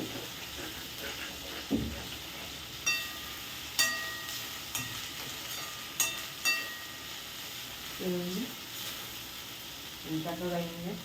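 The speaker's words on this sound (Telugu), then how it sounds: "అల్లం చిల్లిపాయ పేస్టులు, కొబ్బరి పేస్ట్ చక్కగా వేగింది." Ginger-chilli paste, coconut paste and tomato masala fry in a pan with a steady close sizzle, broken by several sharp spatula clinks and scrapes against the pan and a brief voice near the end.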